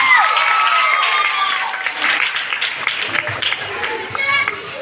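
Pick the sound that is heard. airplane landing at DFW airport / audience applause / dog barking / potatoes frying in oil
audience applause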